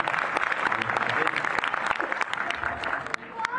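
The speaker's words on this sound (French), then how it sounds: "Oui, on peut l'applaudir." Audience applause during a film debate event, a dense wash of clapping that carries on steadily throughout at a fairly strong level, with a bit of voice mixed into the crowd noise.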